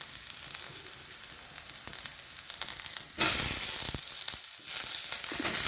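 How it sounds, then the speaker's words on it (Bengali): Onion and green chilli fry in oil for aloor dum, a soft steady sizzle that jumps to a louder, brighter crackle about halfway through as the pan is stirred, with no talking. "পেঁয়াজটা আর লঙ্কাটা ভেজে নেব।"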